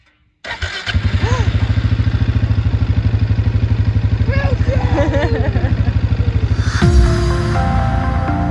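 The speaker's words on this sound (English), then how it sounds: "You're gonna start the quad bike." A quad bike engine cranks and catches on a farm, then settles into a loud, steady chugging run with a rapid regular pulse; voices speak briefly over it and the note shifts near the end.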